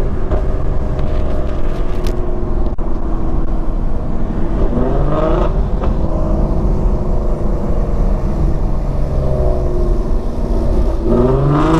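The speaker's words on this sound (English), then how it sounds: "Get some downshifts really quick here." Ford Mustang engine revving hard through quick downshifts, a loud, steady, close-up drone with rising and falling pitch sweeps at each gear change.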